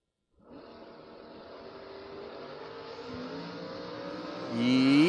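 Drag racing Camaro and Chevelle launching down the strip at a track event, engines starting quietly and building into a rising roar that swells sharply near the end, heard from a distance.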